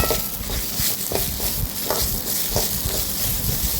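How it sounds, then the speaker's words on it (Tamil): Moringa (drumstick) leaves sautéing in a hot pan, with a steady close sizzle and scraping stirring strokes repeating through the whole stretch, no voices. "இது கூட கொஞ்சோண்டு முருங்கைக்கீரையும் போட்டு நல்லா வதக்கிக்கலாம்."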